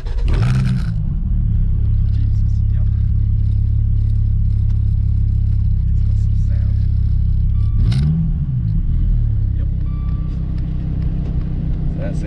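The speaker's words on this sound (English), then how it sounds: "foot on the clutch, press that red button, hear a startup" Dodge Viper SRT's engine cranks and fires into a loud, deep idle near the start, blips once around eight seconds, then settles into a steady low rumble throughout.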